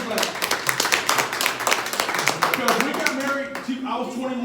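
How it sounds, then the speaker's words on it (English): A church congregation claps hands in a quick burst of dense, overlapping applause for about three seconds, then fades as a voice carries on speaking over it. "Y'all better give her a good hand clap."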